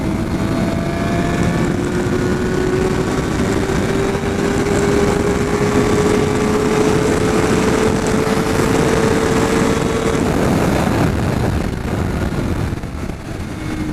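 A 2013 Kawasaki ZX6R sport motorcycle pulls hard while being ridden, its loud continuous engine drone climbing steadily in pitch over heavy wind rush, then easing off near the end.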